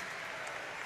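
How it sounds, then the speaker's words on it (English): Arena crowd at an indoor soccer venue applauding a high school show choir, a dense, even wash of clapping that is faint and distant, brief and with no talk over it. "how about a nice round of applause?"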